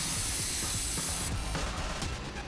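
Hot steel parts from a 900-degree furnace go into a quenching tank of oil during safe manufacturing, giving a loud, steady hiss that eases off partway through, with low mechanical rumbling underneath.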